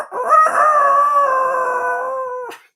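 A human voice imitates a rooster crowing, one loud, drawn-out call close by, rising then holding a strained tone before breaking off, with no other sound around it.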